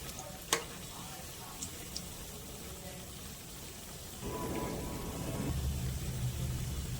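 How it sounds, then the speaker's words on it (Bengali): Pieces of chhana are turned over as they fry in oil at medium heat, giving a soft steady sizzle with a sharp clink near the start and a louder burst of frying later, faint and close, without speech. "এবার ছানাগুলো উল্টে পাল্টে ভেজে নেব।"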